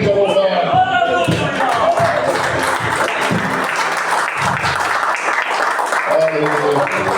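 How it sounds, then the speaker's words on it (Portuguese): Congregation clapping during a church service, loud continuous crowd applause with scattered cheers, mixed with a voice speaking over it throughout. "As palmas louvam o Senhor Jesus."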